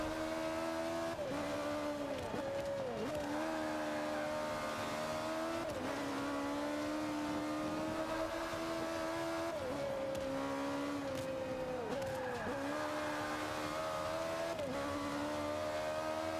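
A race car engine in a racing video game drones steadily at high revs with repeated dips at gear shifts and corners, with faint tire squeal and no talking.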